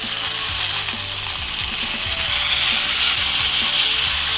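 Salmon frying hard in a cast iron skillet, a loud, steady broadband sizzle with small pops and spatters running throughout, close up and without talk.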